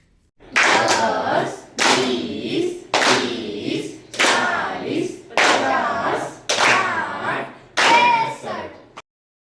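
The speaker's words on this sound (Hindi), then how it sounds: "तो फिर सभी 65 तालियों के साथ आज की बर्थडे लेडी को अब सम्मान देंगे" A group claps in unison for a 65th birthday celebration, a series of loud, evenly spaced bursts of rhythmic hand claps, close by, with faint voices between the beats.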